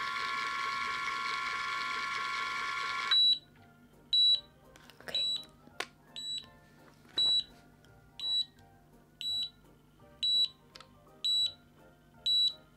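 After a sustained buzzing tone, a high electronic beep from a cordless automatic hair curler repeats about once a second, sharp and close, with faint mechanical clicks between beeps.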